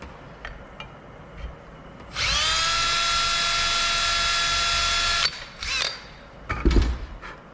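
A power drill with a countersink bit bores into aluminum sheet for an RV-14 experimental aircraft, a steady high whine lasting about three seconds, close and loud, followed by a few clicks and handling knocks.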